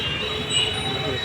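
A train rumbles with a faint metallic squeal at Rajahmundry railway station in heavy traffic, a brief continuous wash of rail noise heard close by.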